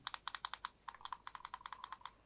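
Side buttons on a Bloody R36 Ultra wireless gaming mouse click in a quick, steady series of crisp, close taps, about twenty presses in a little over two seconds, alone and fairly quiet.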